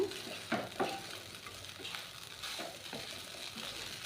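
Poha upma, flattened rice, is stirred in a pan, giving soft scraping strokes and a few sharp knocks of the spoon against the metal over a light sizzle, close by with no talking.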